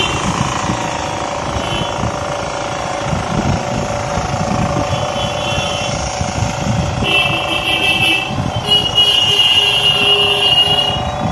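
A mini power tiller engine runs continuously at close range, producing a loud, steady mechanical drone with a rough, rattling texture that holds level for the whole stretch.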